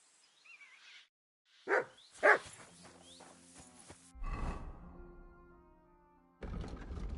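A dog in the medieval video game Kingdom Come: Deliverance II gives two sharp, loud barks close by, followed by softer whimpering sounds, footsteps and ambient game noise.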